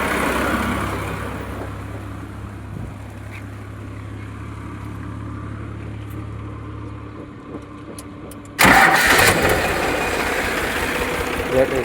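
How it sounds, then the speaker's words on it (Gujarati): A 2020 Powertrac Euro 50 tractor is started with its battery self-start: after a low, steady hum, the engine suddenly catches and roars into a loud, rough idle close by, with talking around it. "Battery cell start."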